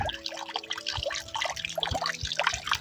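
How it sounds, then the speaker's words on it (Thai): A solar-powered garden waterfall fountain trickles outdoors in early spring, with a close, continuous patter of water and distinct drips landing at irregular intervals, no voices. "ตัวนี้ใช้พลังงานแสงอาทิตย์นะคะ ที่เป็นน้ำตกนะ่ะ"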